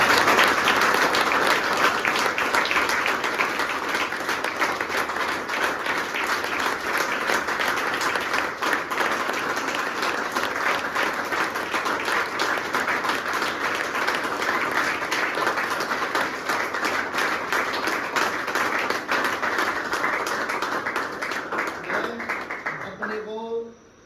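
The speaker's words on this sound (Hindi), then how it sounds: "तो तेंद्र के लिए फिर एक बार जोर से तालियां 3 साल के लिए।" An audience at a rehabilitation center in Dehradun gives a long, steady round of loud applause, celebrating a resident's three years of recovery, with dense clapping continuing unbroken for over twenty seconds before stopping abruptly.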